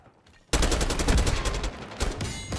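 An AK-74 fires in Call of Duty: Black Ops 6, a sudden loud burst of rapid automatic shots in a steady rhythm lasting about two seconds, with no talking.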